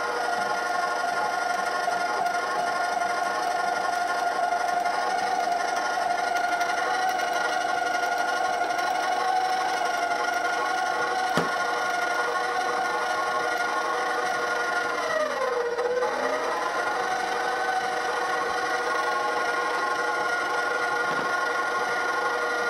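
An electric mixer beats eggs into warm choux pastry dough for gougères with a steady, continuous motor whine and a dip in pitch partway through as the load shifts, running alone without talk.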